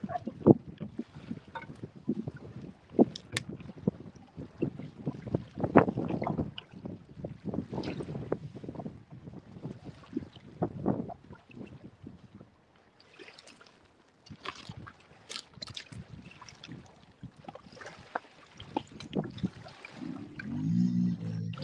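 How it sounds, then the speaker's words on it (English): Gusty wind buffets the microphone outdoors beside a river on a cold winter day, coming in uneven rushes and flutters, loud at moments and quieter in between, with no talking. "daggum wind's keeping things a little nipply"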